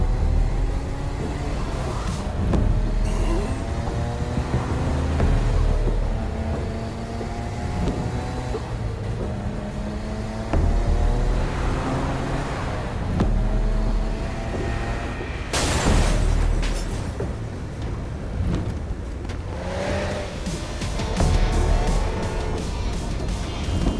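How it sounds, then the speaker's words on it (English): Car driving in Saints Row: Gat Out of Hell, a steady engine drone with rising and falling revs throughout, punctuated by a loud booming impact midway and a few later thuds. "Lady Kensington and Johnny Gat driving together on a birthday adventure"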